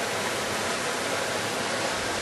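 A small waterfall and stream in a lush jungle-like forest on a golf course pour with a steady, dense rushing hiss, close and continuous without pauses.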